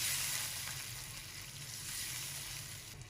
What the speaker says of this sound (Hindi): ये 1 प्याली पानी है, हम टमाटर गलने के लिए डाल दें